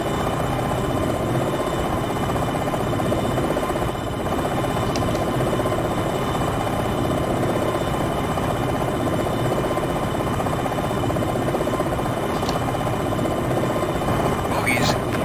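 Helicopter rotor noise from a military attack helicopter in Jane's Longbow Gold flight game, a steady dense thrumming drone running loud and continuous throughout.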